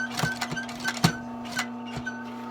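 A sewing machine stitches heavy leather for a vintage briefcase restoration, a rapid mechanical clatter with a steady motor hum and repeated needle thumps, close and fairly loud.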